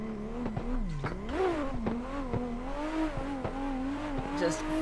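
Drift car engine revving and wavering up and down in pitch as the throttle is feathered while sliding on a wet mountain road, a loud, continuous in-car drone with fluctuating revs.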